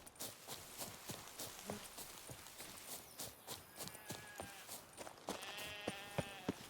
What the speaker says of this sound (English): Hey sheep. How's it going on this clear morning?